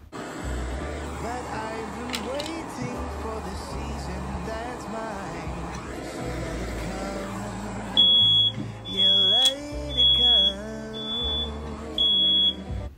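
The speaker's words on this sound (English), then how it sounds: "I have a very sensitive smoke alarm. Extremely sensitive, as you'll be able to hear in just a few moments." A very sensitive home smoke alarm, set off by a kitchen torch, sounds in repeated loud piercing beeps over low background rumble and movement, with a few separate shrill chirps coming in the second half.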